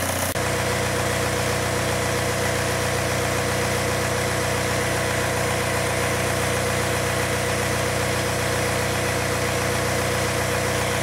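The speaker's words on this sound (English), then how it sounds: "engine all back together and started" A Volkswagen TDI diesel car engine idles steadily and continuously, a low rumbling hum with a faint rattle, close by and unchanging, with no voices.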